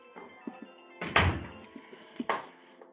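A door shuts with a solid thunk in a quiet indoor room, followed by a few softer knocks and one more short bump a moment later.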